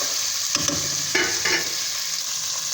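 Bay leaves and whole spices fry in hot oil for a desi chicken yakhni soup, a loud steady sizzle broken by two or three quick stirring scrapes near the start.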